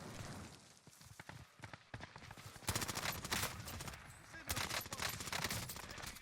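Krig assault rifle fire in a Call of Duty video game, rapid automatic bursts of sharp close shots in repeated strings, loud and dense with short pauses between volleys.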